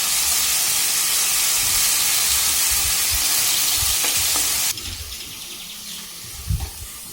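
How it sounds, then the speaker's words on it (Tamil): Ginger garlic paste and onions being sautéed in a pan for a mushroom gravy, giving a loud, steady sizzle with stirring scrapes that drops suddenly to a quieter frying hiss, with a few utensil knocks near the end. "இஞ்சி பூண்டு விழுதையும் நல்லா வதக்கிக்கணும்."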